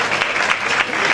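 Brief burst of audience applause at a national cartoon fan gathering, a dense, moderately loud clatter of many hands.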